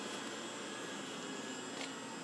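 A Southwestern Industries CNC vertical mill's spindle runs at about 1,500 RPM, giving a soft, even whirring hiss that holds steady throughout with no voices.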